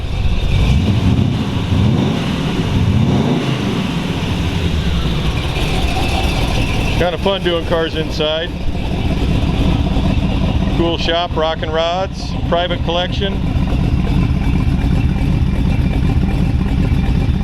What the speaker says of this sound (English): Just turn this key on. Starts right up. Rumpity rump.